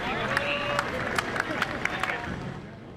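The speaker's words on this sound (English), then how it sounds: "there was applause, there was cheering" A crowd applauds and cheers for healthcare workers arriving for and leaving their shifts during the COVID-19 pandemic, a dense steady wash of clapping and voices with sharp claps and whoops popping out, mid-distance, continuous for the whole stretch.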